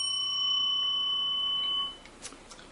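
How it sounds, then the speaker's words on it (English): A bell rings with a bright, sustained ringing tone that holds steady for about two seconds, then cuts off, leaving faint room noise and a few soft taps. "I got to ring the bell."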